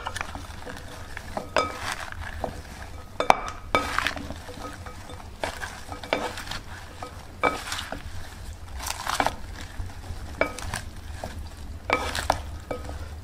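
Spoon mixes a mozzarella salad with extra virgin olive oil, salt, pepper and lemon juice in a bowl, a steady stream of close wet stirring and rhythmic clinks against the bowl, no talk.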